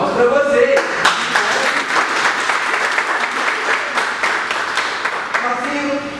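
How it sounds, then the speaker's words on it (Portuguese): Couples dance class applauding, a loud burst of close, distinct hand claps from a small group, with voices briefly heard at the start and end. "Palmas para vocês."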